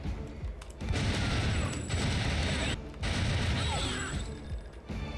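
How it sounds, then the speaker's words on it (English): Tommy gun fire in the video game Timesplitters comes in long, loud bursts of rapid shots separated by short gaps, with bullets ricocheting and whining off surfaces between the volleys. "Another quirky thing about the bullets, just a little extra thing, they ricochet."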